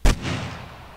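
A single sharp firearm shot in the video game 7 Days To Die, loud and close, with a booming crack followed by a short fading echo tail, alone without speech.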